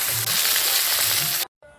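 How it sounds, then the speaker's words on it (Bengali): A fish head fries in hot oil with a loud, dense crackling sizzle close by, lasting about a second and a half before cutting off abruptly to near silence. "তেলটা গরম হয়ে গেছে, এখন মাছের মাথাটা দিয়ে দেব।"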